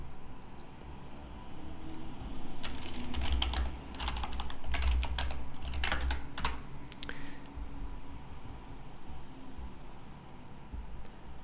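Rapid clicking of computer keyboard typing in bursts over a low background hum, then trailing off into quiet.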